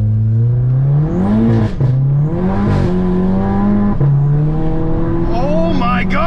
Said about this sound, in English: We got a little bit of blow off valve noises now